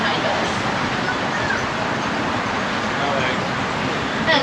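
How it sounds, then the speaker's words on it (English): Highway traffic running right behind the Wild Asia Monorail at the Bronx Zoo: a steady, dense roar of passing vehicles, constant and fairly loud throughout. "And now the highway right behind us."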